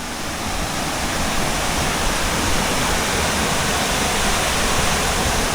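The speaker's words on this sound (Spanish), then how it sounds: "ver el magnífico caudal del río" A river waterfall in Chapada Diamantina rushes in a loud, steady, broadband roar that fills the space without pause.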